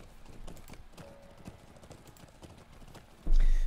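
Horse hooves clip-clop in Lord of the Rings Online as a mount trots along a battle plain, giving a steady, close rhythm of hoofbeats followed by a sudden loud burst at the end.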